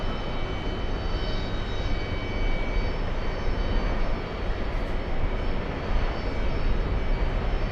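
An Emirates airliner taxis toward Gate 7 at an airport, its engines giving a steady, loud broadband roar with a faint high whine throughout, close by and unbroken.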